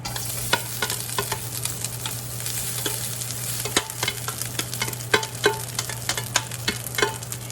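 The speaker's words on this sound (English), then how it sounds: "I'm gonna add my white rice to the pan" White rice is stirred through a hot pan with sesame oil, a steady low sizzle under repeated scraping and clinking strokes of the utensil, close and fairly quiet.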